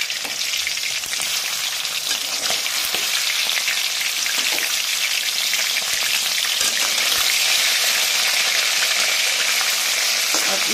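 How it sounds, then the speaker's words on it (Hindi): Rohu fish pieces fry in hot oil in a pan, giving a loud, dense and continuous sizzle with fine crackling that holds steady throughout, with no talk. "इस तरफ से भी हम गोल्डन ब्राउन फ्राई कर लेंगे"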